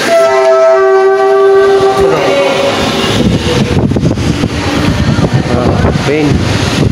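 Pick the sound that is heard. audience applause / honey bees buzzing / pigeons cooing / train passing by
train passing by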